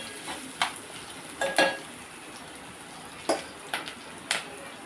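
Coconut and chana dal tempering frying in a pan, a low background sizzle broken by several sharp scrapes and clinks of a spoon stirring, quiet overall with no talk.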